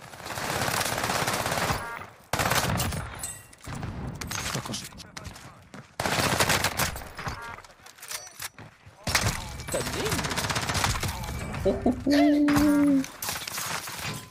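Sniper fire from a K31 rifle in the video game Warzone, with sharp loud shots and bursts of gunfire broken by brief silences, mixed with game effects and talk.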